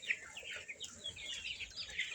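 Healthy chickens, including egg-laying hens, cluck steadily and close by in a continuous, overlapping chatter with no one talking.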